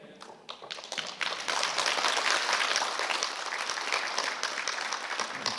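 A Korean audience at a tea-culture leaders' training lecture starts with a few scattered claps that quickly swell into steady, moderately loud applause, sustained without speech.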